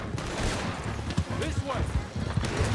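Gunfire erupts in Red Dead Redemption 2 as scattered shots pop over a dense, noisy game soundscape, with voices speaking amid the firefight.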